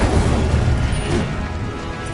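An Incendio fire spell cast in a Hogwarts video game, heard as a loud, dense whooshing roar of flame with a crackling rush that eases off slightly, with no voices.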